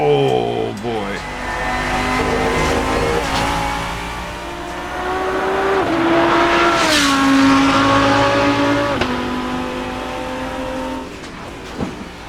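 A race car in the Assetto Corsa sim at a proving ground drives with a loud, steady engine drone whose pitch climbs and drops through gear changes. A short, sharp thump of a hard landing comes near the end.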